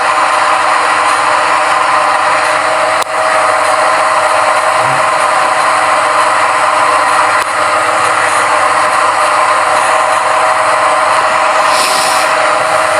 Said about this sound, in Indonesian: Ini proses pengeboran diameter 8,